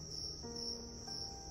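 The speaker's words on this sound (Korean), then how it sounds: "이 귀뚜라미도 먹어요?" Crickets kept as feeder insects chirp steadily and alone at close range, a continuous high trill with no voices.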